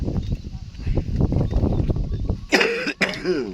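A couple of harsh coughs burst out near the end after a stretch of muffled rustling, close and fairly loud, outdoors in a rice field.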